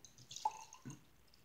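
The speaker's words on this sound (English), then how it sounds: "I'm gonna pour mine into this smaller cup" Vinegar poured into a smaller cup, heard as a few faint, close drips and a brief liquid splash with quiet gaps between.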